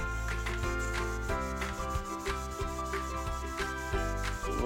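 Scrubbing with elbow grease to clear wet buildup from a sliding window track, heard as a steady, close rubbing and scraping that keeps going throughout with a repeated back-and-forth rhythm.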